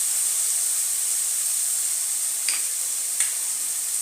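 Onion, ginger and garlic fry in a pan for a Bengali prawn curry as spice powders go in, giving a steady, close sizzling hiss with a couple of faint stirring clinks and no talking.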